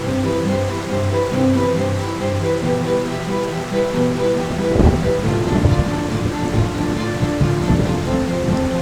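Lower Hundru waterfall near Ranchi pours through dense forest under dark clouds, a loud, continuous rushing roar of falling water with no voices.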